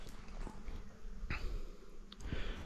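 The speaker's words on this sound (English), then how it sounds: "the bees have been happily flying in and out and exploring their new home" Honeybees buzz around new hives, a faint, steady hum with occasional closer passes of individual bees flying in and out.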